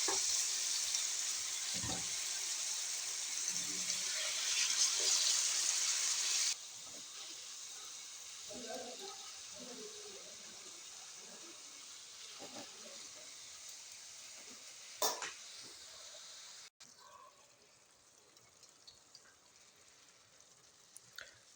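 Chicken pieces fry in a small pan of about three-quarters of a cup of hot vegetable oil, giving a steady sizzle that is louder at first, then quieter with faint clinks and stirring, and no one speaking.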